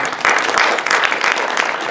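Audience applauding at a medical talk on prostate health in older patients, a dense, steady burst of clapping filling the room from start to finish with no voices on top.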